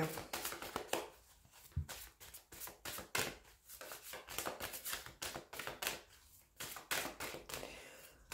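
Tarot cards are shuffled by hand at close range in a steady run of crisp riffling and tapping bursts, with no talking over them.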